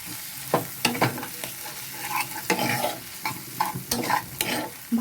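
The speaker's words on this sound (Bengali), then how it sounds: "ভালো করে এবার টমেটোটাকে এর মধ্যে ভেজে মিক্স করে নেব।" Tomatoes fry in a pan while being stirred, producing a soft sizzle broken by repeated scraping and clacking strokes of the spoon at close range.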